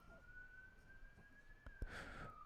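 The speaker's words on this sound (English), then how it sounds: "You hear the sirens?" A steady siren tone holds a long rising-then-falling wail, fairly faint and distant, with a couple of sharp knocks near the end.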